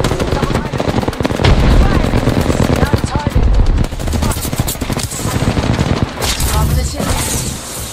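Rapid automatic gunfire in the Apex Legends video game, dense bursts of loud, close shots rattling almost without pause, with a brief lull midway before the firing resumes.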